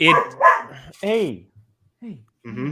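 A few short dog barks and yips break in among brief spoken words, close by, with pauses between them.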